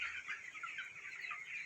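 Chickens on a broiler chicken farm cluck and chatter together in a continuous, faint, busy flock murmur with no pauses.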